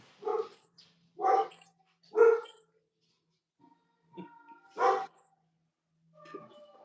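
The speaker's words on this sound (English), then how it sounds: "Then you got the dogs going." Dogs bark in a series of about five loud, close woofs, three in quick succession, then a pause before two more and a softer trailing yelp.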